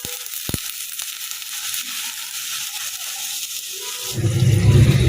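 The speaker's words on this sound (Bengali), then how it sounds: "এদিকে করলা আর আলুটাও ভাজি বসা দিলাম" Bitter gourd and potato go into hot oil. A quiet hiss and a few clatters come first, then a loud, steady sizzle rises near the end.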